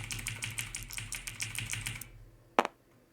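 Dice rattle in a rapid clicking run for about two seconds during a wargame turn, then one sharp knock as a die lands near the end, close and fairly quiet.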